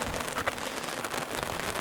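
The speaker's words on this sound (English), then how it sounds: "it's raining, so we put the awning out for the bike." Rain falling on a camp awning sheltering a KTM two-stroke dirt bike near the dunes, a steady dense patter of drops with no voices.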